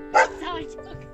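A small village dog in a rural Chinese farmyard gives one short, sharp yip near the microphone, followed by quieter tonal sounds with a steady hum beneath.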